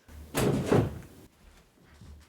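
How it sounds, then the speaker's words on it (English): Loud knocking and banging on a door, a burst of heavy thuds close by followed by a quieter trailing knock, with no talking. "look who was banging on the door"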